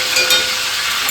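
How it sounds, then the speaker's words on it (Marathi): Curry leaves dropped into hot oil for a tempering crackle and sizzle in a brief, loud, steady hiss up close. "पटकन आता मी फोडणी देते."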